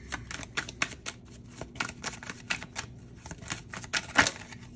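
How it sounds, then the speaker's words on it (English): Tarot cards are shuffled by hand in quick, riffling bursts, a close rhythmic flutter and snap of card stock repeating for several seconds, with no talking. "I'm inspired to shuffle."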